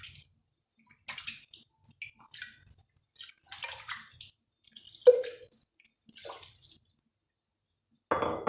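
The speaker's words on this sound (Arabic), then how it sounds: "دابا غادي ندير الملحه باش نرش الماء والملحه" Salted water sprinkled by hand onto couscous made with alfalfa, heard as scattered soft splashing and dripping bursts near the mic, broken by short pauses, with no talk.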